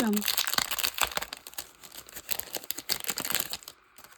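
Crinkly plastic packaging around a notebook journal being handled and opened, with close, irregular crackling and rustling bursts, some tearing sounds, and a person speaking over it.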